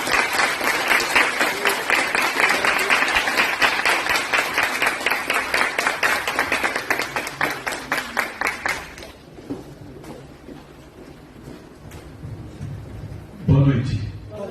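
A church congregation applauds loudly during an evening service, with rapid, rhythmic clapping that fills the room for about nine seconds. The clapping then thins into quieter scattered claps and room noise, and a voice speaks near the end.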